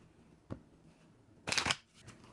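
Soft riffle of cards being shuffled, a brief tap followed by a short burst of flicking cards, quiet and close.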